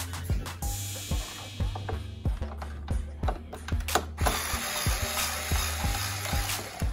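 Screws being backed out of a Yamaha EX5/EX7 synthesizer with a hand screwdriver, giving a steady series of small close clicks and ratcheting ticks, roughly one or two per second, over a low mechanical hum.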